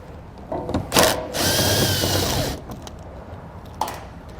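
Power driver with an 8mm socket whirring steadily as it backs out underbody panel screws near the wheel well liner of a 2021 Chrysler, with short bursts before one sustained run and a brief final spin; close and fairly loud, no talk.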